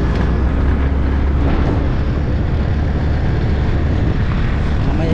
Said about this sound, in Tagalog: The remote helicopter.